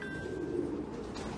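Soft, continuous pigeon cooing at a pigeon auction, murmuring low and steady under a dense background hum.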